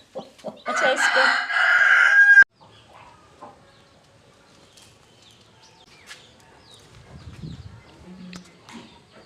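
A hen guarding black and yellow chicks gives a loud, harsh, drawn-out call at the start, followed by faint, scattered clucks and soft rustling in a quiet village setting.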